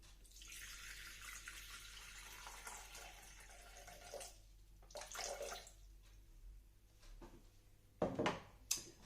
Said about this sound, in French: je vais mettre 330 ml d'eau